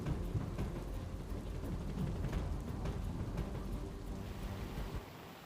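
A heavy monsoon downpour in Valsad, Gujarat, roars steadily with low thunder rumbling underneath, holding dense and loud before easing slightly at the very end.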